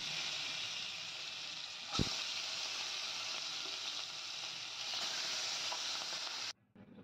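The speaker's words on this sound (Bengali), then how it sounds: "এবার ইলিশ মাছগুলো আমি এপিট ওপিট করে ভেজে নেব" Hilsa fish pieces frying in mustard oil, turned side to side: a steady loud sizzle and hiss runs throughout, with a brief clatter near the start and an abrupt drop as the sizzle cuts out at the end.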